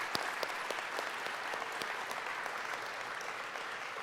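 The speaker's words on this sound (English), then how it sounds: "So very nice round of applause for General Motors as we sit in their beautiful facility." A large audience applauds steadily inside a General Motors facility during an autonomous-driving competition awards ceremony, dense even clapping with a few sharper nearby claps, sustained throughout.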